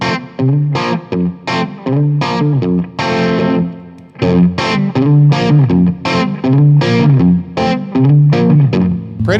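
An electric guitar played through a Suhr Shiba overdrive pedal, used almost as a clean boost, chugs out loud, gritty chords and riffs in short bursts, with a slightly compressed, driven tone.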